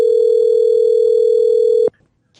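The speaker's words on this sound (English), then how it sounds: "All right, let's get Saad on the phone" A telephone dial tone hums steadily while a call is being placed, a single loud constant tone that cuts off abruptly near the end, followed by near silence.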